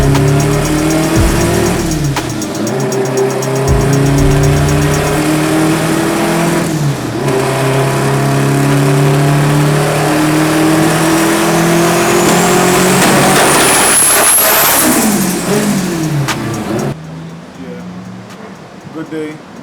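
A turbocharged Honda Integra with a K24 engine running 35 pounds of boost revs hard on a dyno, its loud engine note climbing and falling through repeated pulls before cutting off, with a voice talking over it.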